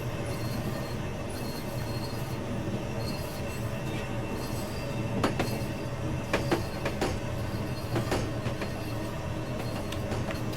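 Simulated M2 electric multiple-unit train on the New Canaan Branch shuttle in Train Simulator 2020, a steady rolling rumble with rail clatter and a few sharp wheel squeals and clicks midway through, continuous and close.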